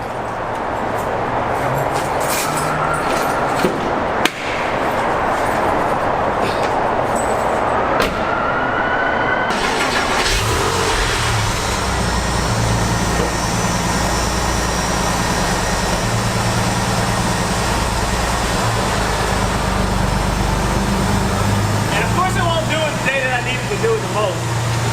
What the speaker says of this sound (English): this little noise that this secondary intake pump is making is so annoying